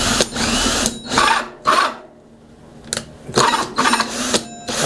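A power drill whirs in short bursts while set to reverse during a wooden wine rack build, several close, loud spurts separated by brief pauses.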